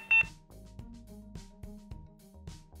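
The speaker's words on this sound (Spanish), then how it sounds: "Al escuchar un pitido en la cámara, puedes avanzar en la aplicación." A Tuya Smart Life S01 solar security camera with a rechargeable battery gives one short, sharp electronic beep during setup, followed by faint soft clicks and handling knocks.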